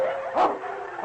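King the dog fights wolves in deep snow in a radio drama effect, giving close, loud snarling yelps and whimpers in a churning, continuous struggle that peaks midway.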